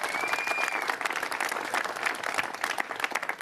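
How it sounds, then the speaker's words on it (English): A crowd at a press event on California's film and TV industry gives a big round of applause, steady clapping with a faint whistle early on and little talk. "let's give a big round of applause"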